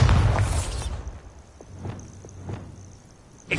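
A Bombarda explosion spell bursts in Hogwarts Legacy with a loud boom that decays over about a second. Faint pops and thuds follow, and a sharp crack lands at the end.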